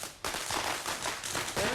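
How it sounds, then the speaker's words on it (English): Fireworks and firecrackers on the 4th of July, a dense, loud burst of crackling pops and bangs starting abruptly and continuing in rapid, irregular clusters. "More fireworks."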